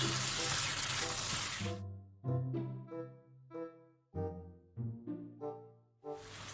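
Prawn sambal sizzling loudly in a pan at the start as it is stirred, then giving way to a stretch of tonal, music-like notes before the sizzle returns briefly at the end.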